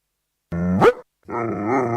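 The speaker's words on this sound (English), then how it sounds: "Hey, this dog won't stop barking at us." A dog in a radio advert barks and growls close up, one rising bark-growl followed after a short gap by a longer, sustained growl, loud with no talk over it.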